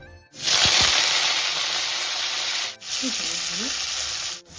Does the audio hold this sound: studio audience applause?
no